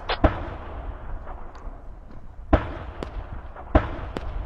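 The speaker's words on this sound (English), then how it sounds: "We'll start mortaring." Mortar rounds in a military video game thump out in three sharp, widely spaced launches with a few fainter pops between them, set against a low rumbling battlefield background.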